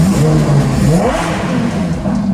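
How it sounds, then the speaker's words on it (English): A 2022 Lamborghini Aventador Ultimae idles and revs nearby with its exhaust valves closed, the exhaust a fairly subdued, low rumble with a gentle rise and fall in pitch. "You notice the exhaust just got a little bit quieter."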